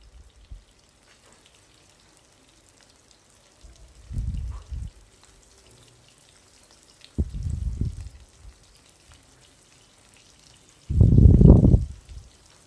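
Onions sizzle with salt in a pan during a Tamil paneer butter masala preparation, heard as three short bursts of frying hiss separated by near silence, the last loudest.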